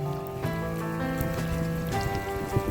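Steady rain falls over the hilly Karigutta area near Bhopalpatnam village on the Chhattisgarh–Maharashtra border, a continuous hiss with a low droning tone running underneath.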